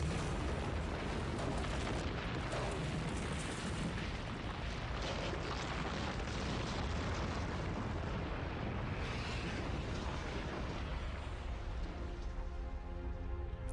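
A huge, sustained rumbling explosion effect depicts two planets catastrophically colliding, a dense roaring blast that stays loud throughout before thinning into a fading, rippling tail.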